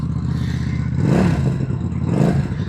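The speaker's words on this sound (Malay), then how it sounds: "Bunyi V-Twin." A QJMotor SRV250 V-twin motorcycle engine revs up twice, each time rising from a low idle rumble to a loud blip and settling back, close by with no talk.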